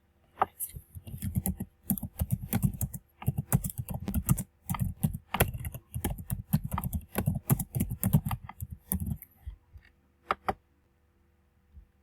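Typing on a computer keyboard to enter a brochure title, with bursts of close, crisp key clicks in an irregular rhythm for about nine seconds, then a couple of isolated taps before quiet.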